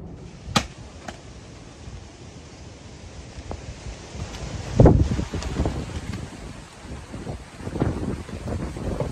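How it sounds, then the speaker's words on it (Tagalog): Strong outdoor wind before an approaching storm buffets the microphone in rumbling gusts, with a few sharp knocks and swells of louder blowing against a constant breezy background. "Mas malakas po hangin po ngayon."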